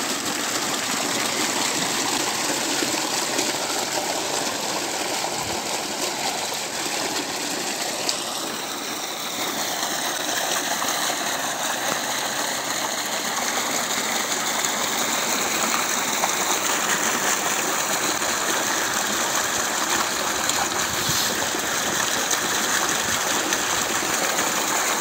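Water gushes forcefully from a solar-powered tube well pump through a five-inch delivery pipe in a continuous loud roar, steady throughout with a faint mechanical whine rising partway through.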